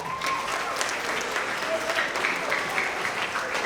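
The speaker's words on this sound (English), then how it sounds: "Let's give her a round of applause." An audience applauds at a school recognition assembly, a steady wash of clapping from a crowd that carries on for several seconds without any talk over it.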